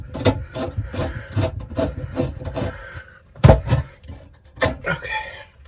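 A stove element fastener is twisted off by hand, giving a run of short, rhythmic scraping and creaking turns, close and moderately loud with no speech.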